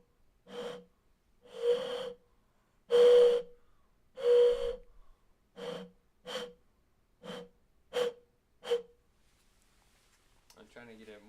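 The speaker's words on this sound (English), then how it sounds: "it's the whistle from it being like a bottle, and then the whistle from the air coming out" A bottle-shaped ceramic pottery whistle is blown in repeated breathy toots, first several longer blasts, then a run of shorter, quicker ones, each with a clear tone.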